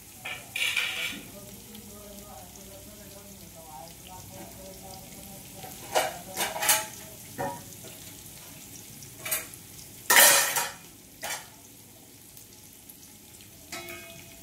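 Sliced onions sizzle steadily in a pan as they fry toward golden, with intermittent louder scrapes and stirring clatter from a utensil against the pan, close and fairly quiet overall.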